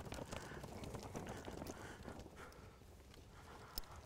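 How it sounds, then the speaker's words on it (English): A horse on a lead rope steps sideways, its hooves giving soft, fairly constant clip-clop footfalls on the ground, with no talk. "Ask the horse to step sideways and then just give and take softly with the lead"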